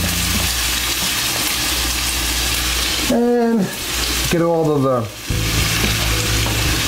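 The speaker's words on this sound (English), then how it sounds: "Hear it sizzling, isn't that great?" Loud, steady sizzling of meat for sausage and peppers frying in hot oil close by, with a voice speaking briefly over it twice.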